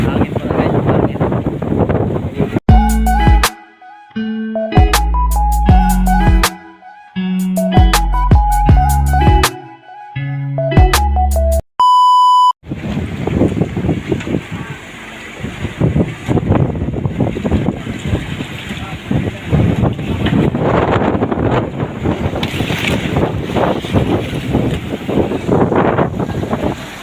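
Strong wind at sea roars steadily against a microphone aboard a boat, a dense rushing noise that fills the clip. A loud burst of music plays over the first seconds before the wind carries on alone.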